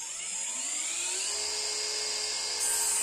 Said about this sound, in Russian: Отторцовываю при помощи угольника и циркулярной пилы.